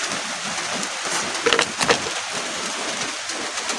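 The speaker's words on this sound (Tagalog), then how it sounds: "Lakas ng ulan." Heavy rain drums in a steady, loud roar, broken briefly by a couple of sharper knocking impacts near the middle before the constant downpour carries on alone.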